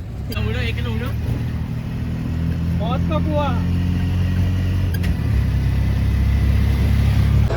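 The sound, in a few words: auto rickshaw riding on the road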